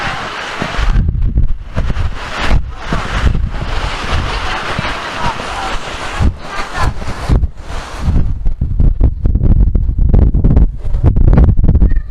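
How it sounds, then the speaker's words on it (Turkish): Strong gusty wind in Cyprus buffets the microphone in loud, roaring bursts, with rushing air and a faint talking voice underneath. "iyi rüzgar esiyor"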